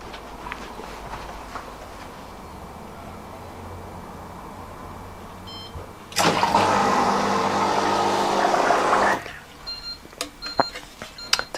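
An inflatable hot tub's pump cuts out for lack of water flow: a steady low hum and a loud rushing burst lasting a few seconds, then sharp repeated beeps, with someone talking faintly nearby.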